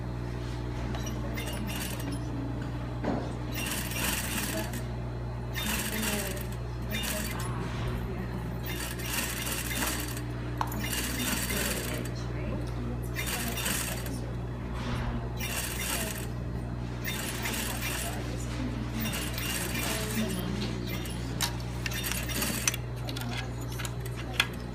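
A sewing machine stitches a quarter-inch hem on a bodice, steady mechanical whirring in repeated bursts with short stops between runs, under a constant low hum and occasional talk.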